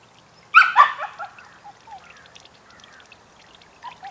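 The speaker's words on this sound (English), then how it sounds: "My puppy is not happy I'm not paying attention to her." A puppy whines and yelps for attention close by, a sharp burst of high cries followed by softer intermittent whimpers, heard during outdoor work on a 20-G motor.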